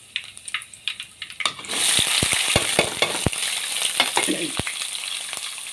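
Chopped onions tipped into hot oil with curry leaves start a loud, steady sizzle after a quieter opening, with a series of sharp spoon or spatula clacks against the pan as they fry.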